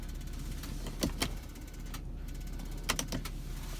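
A Ford Fusion sunroof motor running: a low mechanical whir with a few sharp clicks and clunks, quiet and close, with no talking.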